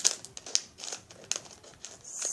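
Faint, close crinkling and snipping of plastic toy packaging being cut open with scissors, in a few short irregular bursts with no talk.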